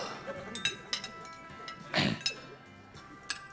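Champagne glasses clinking with a bottle, several bright glassy chinks spaced through the moment, one louder cluster midway, faint voices and festive background murmur underneath.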